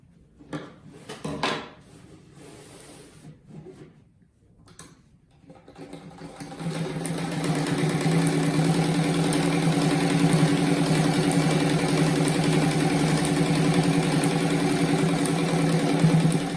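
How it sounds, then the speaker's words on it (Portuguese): Sewing machine stitching along the edge of a fabric-scrap patchwork rug: a few handling knocks and rustles first, then the motor spins up into a long, steady, close mechanical whir of continuous stitching. "Daí agora eu vou passar uma costurinha aqui na ponta"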